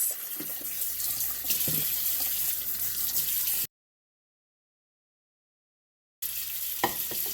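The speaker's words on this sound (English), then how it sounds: "let that run under chlorine water for about a minute" Tap water runs over cleaned crabs in a sink, making a steady, close, bright rushing splash. It cuts out to silence partway through, then resumes just as strongly.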